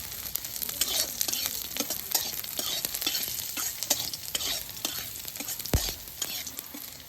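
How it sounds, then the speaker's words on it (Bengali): Chilies, garlic and nigella seeds sizzle in hot oil while a spoon stirs and scrapes the pan in repeated strokes, close and fairly loud. "মরিচটা ভালো করে কালি জিরা ভাজা নিব।"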